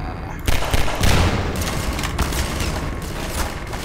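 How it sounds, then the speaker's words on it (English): Gunfire in the video game Half-Life 2 rattles in sustained, loud bursts of overlapping shots and booms, a dense continuous barrage that fills the whole stretch. "Who's shooting at me?"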